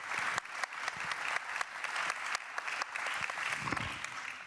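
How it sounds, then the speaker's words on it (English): Audience applause at a conference panel event in Berlin, steady dense clapping from a large crowd that holds at a fairly even level for several seconds, fairly distant and with no talking over it. "This is your applause."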